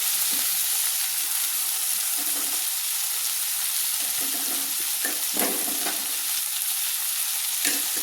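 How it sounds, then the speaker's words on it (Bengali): Spice paste with green chillies sizzles steadily in hot oil over a low flame, a continuous loud frying hiss broken by occasional stirring scrapes and small pops, with no voices. "দিয়ে দিচ্ছি আমি এই পেস্ট করা মশলাটা।"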